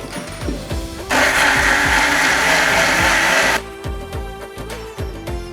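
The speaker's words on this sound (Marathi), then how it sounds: "स्वच्छ पाण्याने धुवून मिक्सरच्या भांड्यात टाकून दळून घे." A kitchen mixer grinder grinds soaked lentils and rice with water into batter, giving one loud, steady whirring burst of about two and a half seconds, with quieter kitchen clatter before and after.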